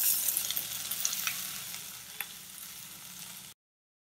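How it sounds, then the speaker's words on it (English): Boiled whole green moong with asafoetida and curry leaves sizzles in a pan, a steady bright frying hiss with a few soft stirring clicks, fading slightly before stopping abruptly. "with a light hand saute it together"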